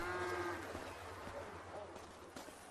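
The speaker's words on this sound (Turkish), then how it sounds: "Kahrolası inekler. Sesleri aynı inek gibi." Low, drawn-out cow moos sound faintly from a distance, blending with quiet background noise and what may be a voice.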